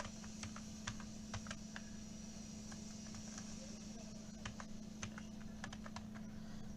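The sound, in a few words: typing on a computer keyboard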